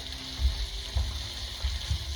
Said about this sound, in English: And here it's sizzling away.